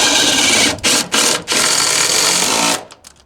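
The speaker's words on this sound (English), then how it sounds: "I'm taking these screws and driving them right into the heel of the stringer underneath like this" Power driver sinking screws into the heel of a wooden stair stringer while framing raked stairs: a loud, continuous whirring drive broken by a few brief pauses, then trailing off near the end, with no talk.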